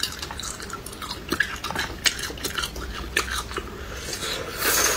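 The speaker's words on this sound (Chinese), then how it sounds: "嚼点解压的辣冰糖。" Crunchy chewing and biting of spicy rock sugar candy up close, with repeated crisp cracks and grinding bites spread through the stretch and a few faint clinks of dishes in the background.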